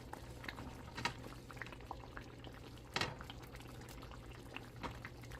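Small whole mackerel simmering in a pan of fish curry: a faint, steady bubbling with a few louder pops scattered through, heard alone and close.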